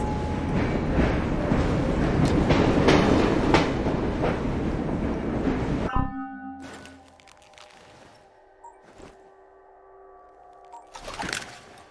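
A moving train in the video game Assassin's Creed Syndicate rumbles loud and dense for about six seconds. It then drops to a quieter interior ambience broken by sparse clanks and creaks.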